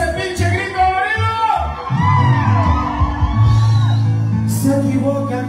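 Concert crowd at a show in the USA yelling and whooping loudly and continuously, with sustained cheering and shouts swelling after the opening seconds, close and dense throughout.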